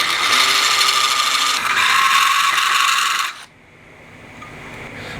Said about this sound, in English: I'm going to try to throw a bevel on these slits here with this cone